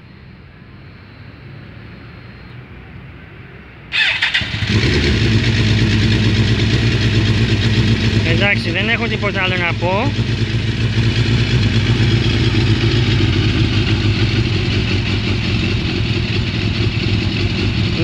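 A 2005 Suzuki GSX-R 1000 K5 sport motorcycle cranks and fires up loudly, then settles into a close, steady idle with a brief revving blip, while someone says a few words over it.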